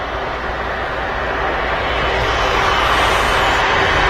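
A Turkish Airlines A330 taxiing out at Manchester Airport, a loud continuous jet engine roar with a broad steady rumble that builds slightly over the clip.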